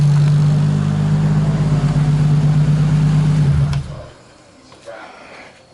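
A thermo fan on a Nissan Skyline R33 GTST runs with a loud, steady roar alongside the idling engine, then both cut off abruptly when the car is shut down, leaving faint background noise.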